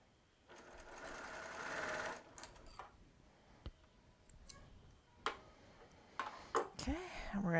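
A sewing machine with green thread stitches a fabric panel, running in a close, steady whirring burst, then slowing into scattered clicks and ticks, with a voice speaking near the end.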